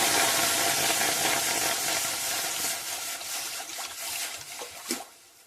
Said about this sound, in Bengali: ওই কড়াই দিয়ে দেবো জল।